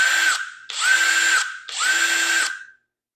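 A budget DeWalt-battery-compatible cordless impact wrench runs in reverse in three close, loud bursts of high-pitched whirring hammering, each under a second long and separated by brief pauses, with no voices.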